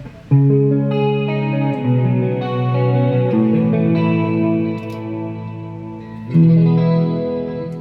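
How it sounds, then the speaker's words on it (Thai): A PRS Custom 24 electric guitar through a Boss ME-80 chorus effect rings out with shimmering, wavering chords, strummed twice with sustained, full tones. "อ่านี่เสียงคิงคอรัสอ่าเล่นให้ดูเลยนะครับ"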